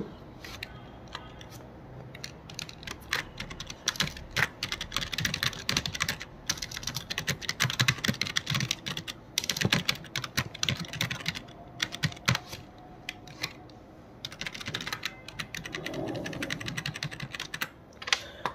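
Rapid, irregular keystrokes on a computer keyboard while working in MS Word, steady clicking close to the mic for most of the stretch, with no voice over it.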